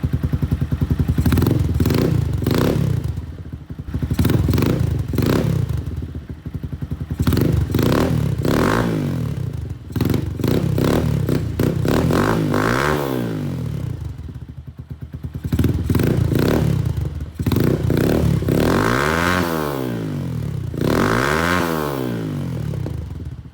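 A loud, deep exhaust on a KP Mini 150 motorcycle with the aftermarket baffle removed revs repeatedly, rising and falling in bursts between idling stretches, up close and unmuffled.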